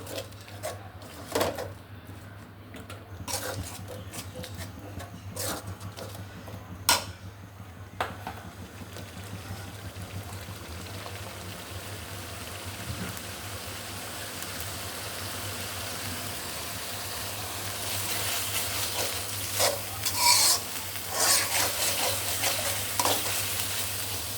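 Beef with garlic and ginger paste sizzles steadily in a pan while a spatula stirs and scrapes at intervals, the frying growing louder toward the end over a low constant hum.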